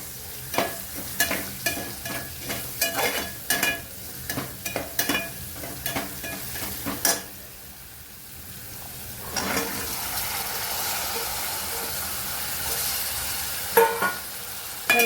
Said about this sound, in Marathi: भाज्या परतून घेऊया फक्त मीठ टाकून घेऊया फक्त